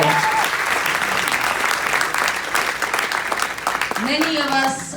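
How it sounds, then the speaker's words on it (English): A conference audience applauds in a dense, loud burst of clapping that carries on steadily for several seconds before tapering off. "And so clap for them because their work is admirable."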